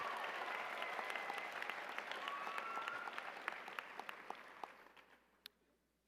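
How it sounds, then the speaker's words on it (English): Graduating students at a college commencement clap and cheer in a large crowd, with sustained applause that gradually thins into scattered individual claps and dies away. "Yeah, you can cheer, students."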